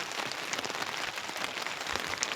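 Heavy rain falls steadily on surfaces in the village of Tharad, a dense even hiss of drops at moderate level with no voices.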